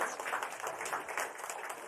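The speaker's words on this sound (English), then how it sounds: "Can we just get another round of applause for Navi?" Audience applause for Navi, an embodied AI robot, at an education product launch event: a steady, dense patter of many hands clapping at moderate volume throughout, with no talk over it.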